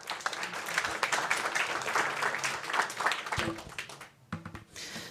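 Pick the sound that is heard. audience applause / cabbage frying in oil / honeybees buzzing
audience applause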